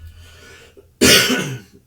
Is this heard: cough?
yes